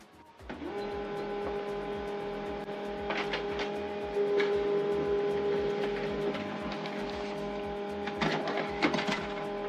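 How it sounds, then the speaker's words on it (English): An HP LaserJet M140we laser printer runs a print job, its motor humming steadily with rhythmic mechanical pulses, rising whirs and clicking as paper feeds through, close and continuous. "This is the document we printed out using a USB cable connection from this printer."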